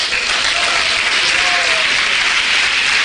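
Steady, dense applause from a church congregation during a pastor's sermon fills the space, even and sustained throughout with no pause.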